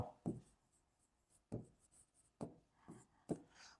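Marker or chalk strokes on a board during a Bengali mathematics lesson, several short scratchy bursts with pauses between them, close and fairly quiet, with no talking.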